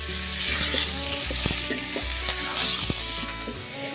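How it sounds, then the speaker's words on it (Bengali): Pieces of snake gourd (chichinga) frying in a little hot oil, a steady close crackling sizzle, with occasional clicks and scrapes of stirring. "সামান্য তেল গরম করে আমি চিচিঙ্গাগুলো একটু এদিক সেদিক করে ভেজে নিচ্ছি"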